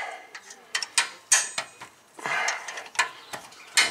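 A hand ratchet clicks in short, sharp bursts while loosening brake caliper bolts on a 2005 Land Rover LR3, close up with metallic ticks and clanks and no one talking.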